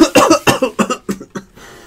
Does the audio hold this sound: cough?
yes